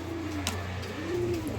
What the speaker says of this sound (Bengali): কবুতর খুব ভালো, সুন্দর, ফ্রেশ কবুতর, লাহোরি